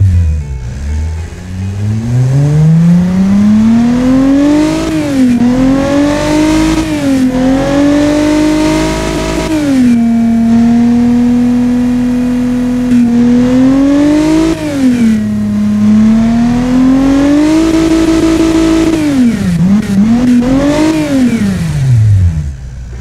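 A 60-degree V engine in the car-building game Automation revs loud and alone, rising and falling repeatedly through smooth, buzzy sweeps. It holds briefly at steady mid revs between the swells and climbs near the end before dropping.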